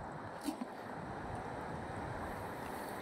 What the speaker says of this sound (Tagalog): Sumasampal yung alon.